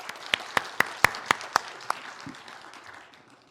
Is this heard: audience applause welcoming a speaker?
yes